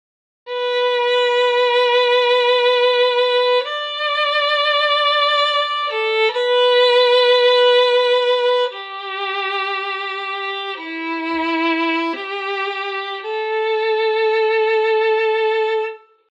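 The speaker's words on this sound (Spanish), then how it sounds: "puntualmente en el violín, para darles un ejemplo, el vibrato suena así." A sustained bowed violin holds a series of notes, each pitch wavering steadily with vibrato, moving from note to note with no pauses.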